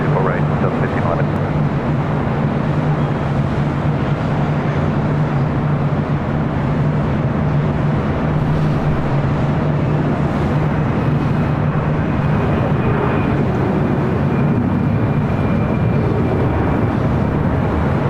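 An aircraft taxiing on the ground at LAX gives a loud, steady broadband roar of engine rumble that fills the whole stretch without letting up.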